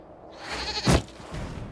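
A goat bleats once in a video game, a single loud nasal cry near the middle rising out of soft background ambience.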